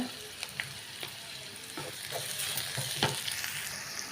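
Beans with green chilli and salt sauté in a pan, giving a continuous low sizzle broken by soft scraping stirs and light taps of a spoon.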